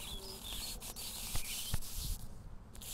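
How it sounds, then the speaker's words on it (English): Protective film rubs and crackles as it is peeled off a polycarbonate greenhouse panel, with soft scraping and a few sharp ticks, close and quiet. "This is all protective coating that just peels off."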